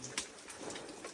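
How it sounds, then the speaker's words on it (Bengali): Water drips and patters like rain inside a cave, a steady close wash of drops with a few louder splashes, heard alone without voices. "বৃষ্টির মতো পানি পড়ছে"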